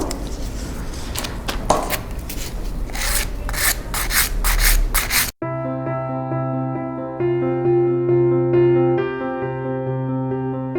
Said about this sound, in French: on va aller la limer